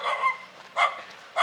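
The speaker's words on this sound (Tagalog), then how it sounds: "Ito may aso." A dog barks three times near a construction site for a bridge project linking to a coastal road, sharp yaps spaced about half a second apart and moderately loud.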